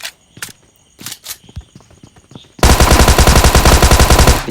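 Gunfire in the mobile battle royale game BGMI, with a shotgun in hand: a few scattered footstep-like taps, then a loud, sustained run of rapid, evenly spaced shots.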